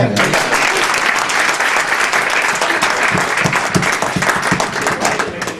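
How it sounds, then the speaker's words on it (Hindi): A crowd claps loudly and continuously for the poets at a mushaira held for the Urdu Markaz silver jubilee, the dense applause filling the hall with no speech over it. "एक दफ़ा तमाम शायरों के लिए भरपूर तालियां"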